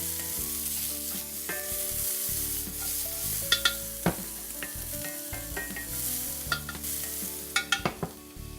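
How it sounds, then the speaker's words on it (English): Onions, garlic and serrano peppers sizzle in coconut oil in a hot pan, with a steady frying hiss, a low background hum and several sharp clinks and scrapes of a utensil stirring near the end. "Hot pan, ready for our onions, garlic, and serrano."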